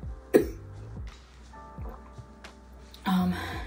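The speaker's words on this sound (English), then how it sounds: "So I've developed a little bit of a dry cough." A few short dry coughs in a quiet room, one sharp cough early and another near the end, with faint breathy sounds between.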